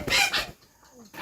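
Scrawny free-range country chickens on a farm, a loud burst of clucking and crowing up close in the first half-second, then a quieter stretch before another loud call begins.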